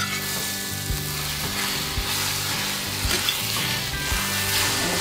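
An omelet frying in a pan for a breakfast pizza, with a steady, loud sizzle throughout and a few soft clicks of stirring or the pan shifting.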